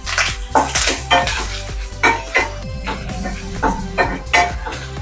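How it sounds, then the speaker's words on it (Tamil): Metal utensils scrape and clatter against a pan in quick, repeated strokes, with a faint sizzle underneath as grated coconut is stirred and toasted. "இப்போ இதில் தேங்காயை வறுக்கணும்."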